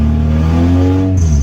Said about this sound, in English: you can see it's idling fine and it revs fine